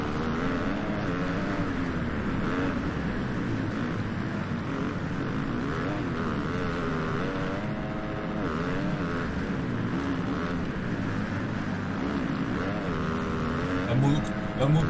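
A motocross bike engine in the game MXGP 2020 drones loud and continuous, its pitch rising and falling with throttle, while a voice talks over it.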